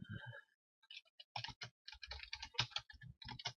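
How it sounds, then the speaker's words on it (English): Fast, irregular clacking of a loud old mechanical computer keyboard being typed on up close, bursts of keystrokes after a short pause, with no talking. "you can hear my keyboard going there. It's a louder old mechanical keyboard"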